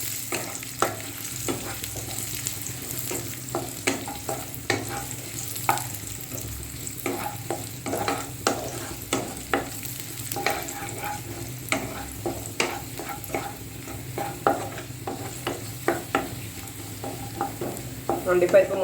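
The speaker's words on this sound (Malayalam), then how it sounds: "അണ്ടിപ്പരിപ്പ് മുന്തിരിങ്ങ നല്ലതുപോലെ ഫ്രൈ ആയിട്ടുണ്ട്" Cashews and raisins fry in ghee for aval payasam, a steady close sizzle punctuated by frequent sharp stirring scrapes and clicks of a spoon against the pan, continuous throughout with no voices.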